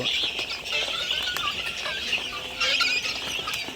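Three-month-old chickens cluck on a poultry farm, their overlapping calls steady and fairly close against a constant background hum, with no talking.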